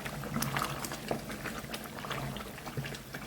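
Cubed tail fat melts in a pan over heat until crisp cracklings form, giving a steady, close bubbling sizzle with dense popping and crackle throughout and no talk.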